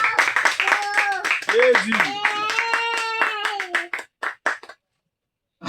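Church congregation clapping rhythmically at a Sunday morning service to acclaim the Lord, steady broadband claps under singing and shouting voices, thinning to a few scattered claps before falling silent.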